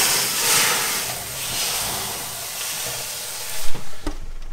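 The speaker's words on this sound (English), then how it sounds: "Nice amount of steam." Water hits a hot oven floor while baking sourdough on a stone, giving a broad steady hiss of steam that swells and fades, ending with a few sharp clunks.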